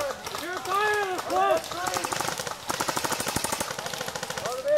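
Rapid bursts of airsoft gunfire during a field game at an outdoor event, a fast rattling stream of shots close by, mixed with shouted voices and tense talk.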